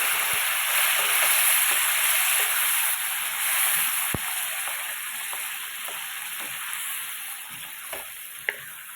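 Chickpea ghugni sizzles in a pan as warm water is added, giving a loud, continuous hiss close by with occasional small ticks and pops.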